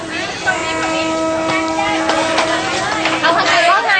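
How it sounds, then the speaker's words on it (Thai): Train rolling through the Maeklong railway market, a loud steady rumble with tonal horn-like hum and clanks, heard up close under chatter from onlookers. "รถไฟกำลังมาแล้วค่ะ"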